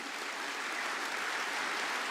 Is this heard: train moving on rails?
no